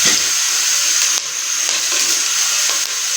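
Onions and whole spices sizzle in hot oil for vegetable pulao, a dense, steady hiss that stays loud and even throughout, broken only by a few soft ticks and pops.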